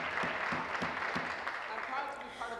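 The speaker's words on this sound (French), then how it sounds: "Oui, ça vaut la peine d'applaudir." Applause in a legislative chamber during question period, a dense wash of clapping from many members with some rhythmic beats, fairly distant and steady under a murmur of voices.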